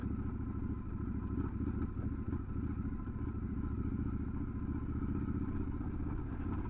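A Triumph Scrambler 1200 XE motorcycle rides off-road with a steady, loud, throbbing engine drone and scattered clattering thumps from the bumpy track, heard close and continuous throughout.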